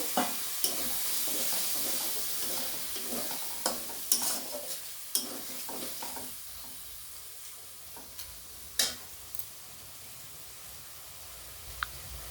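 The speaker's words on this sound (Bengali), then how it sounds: "দিয়ে আমি মশলাটাকে খুব সুন্দর করে কষিয়ে নেব" Spice paste fries in a pan with a splash of water, making a soft, quiet sizzle. Sharp clicks and scrapes from a spoon stirring against the pan come every second or so.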